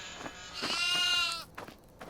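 Goats in the horror video game Devour let out a drawn-out, quavering bleat, loud and near, preceded and followed by short scuffling knocks.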